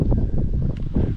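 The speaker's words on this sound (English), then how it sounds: "it's a little windy. You can probably hear that" Gusty wind buffeting the microphone beside Clayton Lake in New Mexico, a loud low rumble with brief swells, heard alone.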